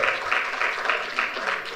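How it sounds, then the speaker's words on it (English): Audience applause for a speaker at a professional engineers' debate, a steady mid-level patter of many hands clapping throughout, fairly close, with no talk over it. "Another round of applause for Mr. Elise, please."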